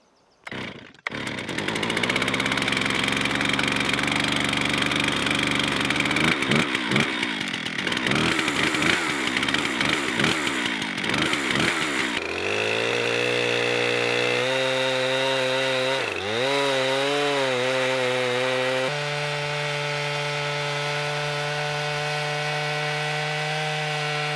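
A chainsaw mill rips lengthwise through a log to cut timbers, the saw revving up loud and close, then grinding steadily with shifting pitch through the wood for over twenty seconds without any talk.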